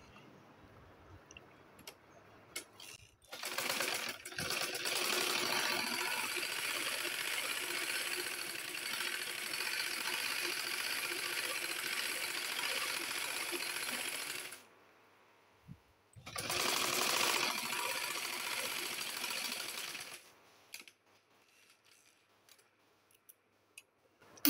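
Electric sewing machine stitching pieces of kurti fabric together in a long continuous whirring run, stopping briefly, then a second shorter burst, followed by quiet handling.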